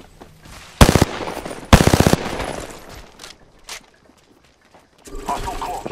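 Automatic gunfire bursts from Apex Legends combat, two loud rapid rattling volleys close together followed by a few scattered fainter shots, with in-game voice lines in between.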